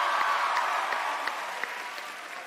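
An audience claps continuously at a live contest session, a dense, even wash of applause with a few sharper individual claps standing out.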